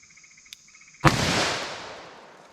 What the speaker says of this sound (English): I'm not sure how many shots this will take